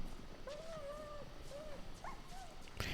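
A dog whimpers and yips in the video game Somerville, several thin, whining, pitched cries repeating close by over quiet ambience, ending with a short sharp sound.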